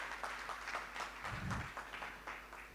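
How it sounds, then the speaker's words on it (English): A conference audience at a university main stage gives a faint, scattered round of applause, soft clapping coming in uneven bursts with a low thump partway through. "give yourselves a round of applause for sticking around after food."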